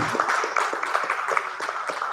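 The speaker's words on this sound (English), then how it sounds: "give her a round of applause for all that she does" An audience applauds at a library gathering for a Pan-African dialogue and reception, with a steady, dense wash of clapping that continues without a break.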